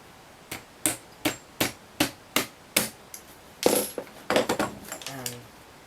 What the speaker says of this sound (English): you have to get a really small hex screw and just hammer that through